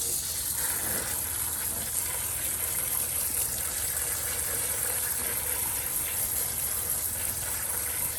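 Cold tap water runs steadily over beans being rinsed, a constant broadband gush with a faint motor-like hum underneath, continuous and close throughout with no talking.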